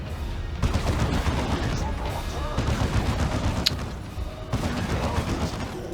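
Dreadnought firing in the Warhammer 40k strategy game Dawn of War 2 Retribution, dense rattling gunfire and blasts of battle in rapid bursts, with casters commentating over the fight.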